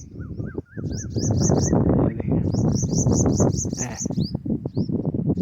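Small sparrows chirp in quick repeated bursts of bright, rising calls outdoors in a rural summer setting, near and clear over a dense, noisy background.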